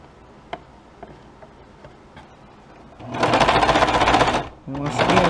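A sewing machine runs in a fast steady burst while stitching a sleeve hem on a ready-made garment being let out, loud and close, stopping briefly then starting again, after a few quiet ticks.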